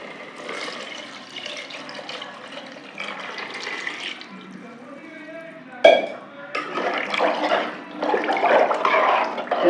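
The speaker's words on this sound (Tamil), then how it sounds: "புளி மிளகாத்தூள் கரைச்சி வச்சுருக்கோம், அதை ஊற்றிக்கலாம்." Tamarind and chili powder liquid is poured into a frying okra curry for Tirunelveli vendakkai kulambu, with a liquid splash and sizzle and a sharp hit near the middle, close and fairly loud.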